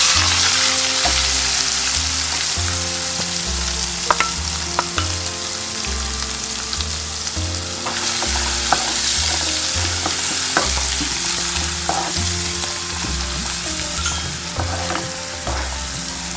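Chopped onion frying in oil in a pan for Amritsari pindi chole, with steady sizzling and repeated scraping stir strokes throughout, close and fairly loud, no talking.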